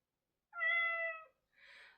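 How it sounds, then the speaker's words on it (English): A toy robotic cat gives a single clear, tonal meow in answer to a voice command, followed by a short soft breathy sound, alone in quiet surroundings. "then she will meow"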